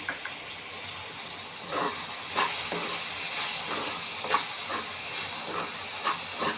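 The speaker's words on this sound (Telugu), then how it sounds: "ఫ్రై అవుతుందండి, ఆల్రెడీ ఫ్రై అయిపోతుంది." Taro (chemagadda) slices with salt and turmeric fry in a pan, a steady hissing sizzle with recurring soft pops and scrapes at irregular intervals, close and without talk.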